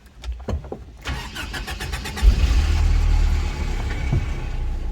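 A chilly 1983 pickup truck engine is cranked without pumping the carburetor, then catches and settles into a loud, steady idle close by.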